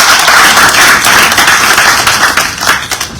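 An audience at the closing ceremony of a national girls empowerment forum claps loudly and densely, a close, continuous burst that thins slightly toward the end.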